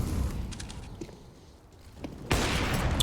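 Gunfire during a Counter-Strike: Global Offensive match on the Inferno map, with a few faint pops early on and a sudden loud burst of shots near the end.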